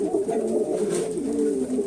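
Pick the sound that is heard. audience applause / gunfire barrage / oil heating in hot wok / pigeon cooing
pigeon cooing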